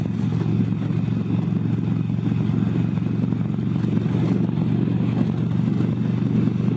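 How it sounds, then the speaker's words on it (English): Wind buffeting against a motorcycle helmet while riding along a straight road, a loud, constant low roar and flutter blended with the drone of the bike's engine. "See, I can feel the buffeting right on top of my helmet right now."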